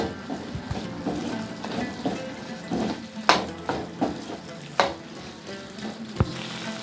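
Paneer with sugar, vinegar and capsicum in hot garlic sauce stir-fries loudly in a pan, with a continuous close sizzle broken by repeated sharp clanks and scrapes of the spatula against the metal.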